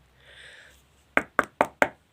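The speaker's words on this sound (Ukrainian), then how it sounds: "Стукає вона до будиночка" Four sharp, evenly spaced knocks on the door of a small house, close and crisp, following a soft faint rustle, with no speech.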